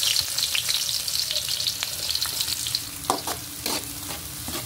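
Garlic and onion sauté in hot oil in a pan, a steady close sizzle with crackling bursts and a few stirring scrapes for pork giniling.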